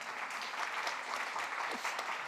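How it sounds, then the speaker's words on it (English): Audience applause at the close of a panel event at the Chicago Global Forum, a steady dense wash of many hands clapping throughout, fairly even and moderately loud. "Give yourselves a round of applause"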